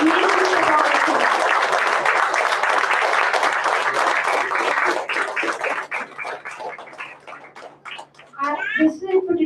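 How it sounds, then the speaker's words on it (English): Audience at a solo graduation performance morning applauding the performers, a loud, dense round of clapping that thins out about halfway through, with children's voices and chatter rising as it fades. "Can we please have a big round of applause for all of the amazing performances?"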